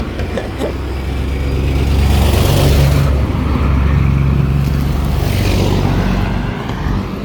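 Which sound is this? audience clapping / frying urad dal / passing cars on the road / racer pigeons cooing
passing cars on the road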